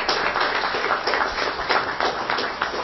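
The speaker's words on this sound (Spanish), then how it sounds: "Vamos a pedir un fuerte aplauso para el ingeniero Mírez Carrillo" Audience applause fills the room at an engineering chapter event for a Mars survival simulation talk, steady dense clapping throughout, loud and close with no speech over it.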